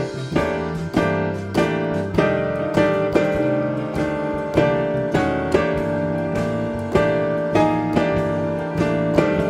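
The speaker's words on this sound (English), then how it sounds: "I'm creating some huge blues chords, spreading the notes out" Piano plays big blues chords in wide spread voicings, a steady rhythmic pattern of struck chords with a rolling low left hand, full and close with no talk.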